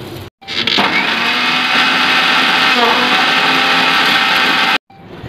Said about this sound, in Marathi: आता आपल्याला हे सर्व मिश्रण मिक्सर मध्ये बारीक करून घ्यायचं आहे, अद्रक आणि लसूण सुद्धा।